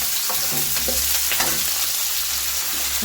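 Chopped ginger, garlic and green chillies frying in a hot pan, a loud continuous hiss with a few light clinks and stirs early on.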